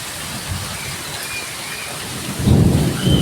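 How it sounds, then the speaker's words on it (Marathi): Heavy May rain pours steadily in Konkan, then a deep rumble of thunder swells in near the end. "हो काय गडगडतंय भारी एकदम"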